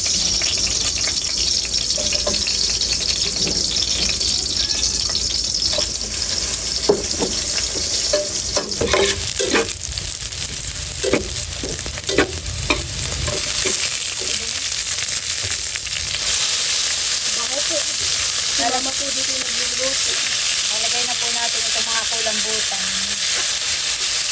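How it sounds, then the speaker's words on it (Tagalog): Garlic and onion sautéing in a pan for adobong kulambutan, a dense continuous sizzle with stirring clatter throughout, close and loud, alone without talk. "Magigisa na po tayo ng bawang at sibuyas."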